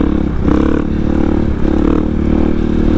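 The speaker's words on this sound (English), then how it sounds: "this rear tire, it's an adventure tire and it likes to spin on gravel" Adventure motorcycle with an adventure rear tire spinning on gravel, loud close engine revving with rough scraping and clattering of loose stones, rising and falling in bursts with no talking.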